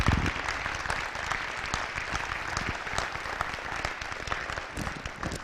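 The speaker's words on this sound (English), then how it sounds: "So, round of applause for our senior class." Sustained applause from a crowd honoring the senior class at a high school football championship celebration, dense steady clapping lasting several seconds at an even loudness.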